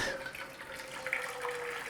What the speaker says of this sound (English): we want some more boiling water in that pan